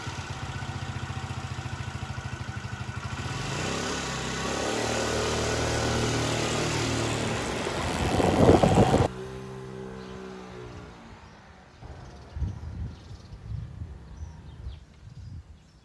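Chinese 50cc scooter engine running while ridden up and down a driveway, a loud buzzing drone that rises and then cuts away to a fainter, uneven engine sound.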